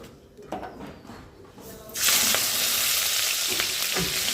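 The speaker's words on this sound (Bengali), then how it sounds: "তেলটা একটু গরম হোক একটু কড়াইতে তেল দিয়েছি" Oil heating in a wok hisses softly at first, then breaks into a loud, steady, close sizzle that carries on to the end, with light clinks and no talking.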